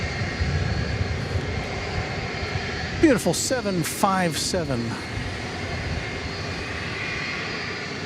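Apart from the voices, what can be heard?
airplane engine revving up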